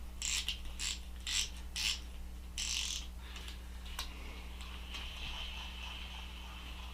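A SeaKnight AXE saltwater full-metal spinning reel's drag ratchets as it is tightened, giving several loud, close clicking bursts in quick succession before settling into a faint steady background hum.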